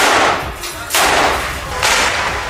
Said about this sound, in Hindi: उन्होंने कई राउंड फायरिंग की।